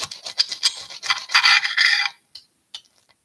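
A big knife saws through a crispy toasted bagel for smoked salmon, giving a run of loud, close rasping crunches for about two seconds, then a few faint scrapes before it falls quiet.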